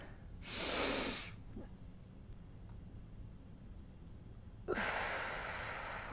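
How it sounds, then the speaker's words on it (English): A deep breath drawn in and let out, a soft airy inhale followed after a pause by a long, slow exhale, close and quiet in a calm setting with no talking. "let's go ahead and take a deep breath"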